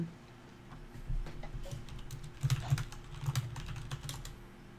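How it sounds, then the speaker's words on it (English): Heavy typing on a computer keyboard, a close run of firm, uneven key clacks that grows busier and louder midway, with a faint steady hum beneath and no talking. "Heavy typer."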